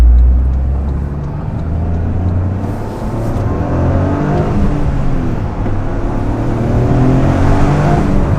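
A Toyota GR Corolla engine drones loudly and steadily, rising and falling in pitch as it revs under an underpass, with a boomy, enclosed resonance and no voices.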